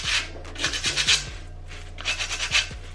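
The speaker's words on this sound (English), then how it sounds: "this is just a little 100 grit Dollar Tree sandpaper." Hand sanding with 100 grit dollar-store sandpaper on a glitter-coated liquor bottle, rhythmic back-and-forth rasping strokes in close bursts, loud and steady, with no talking.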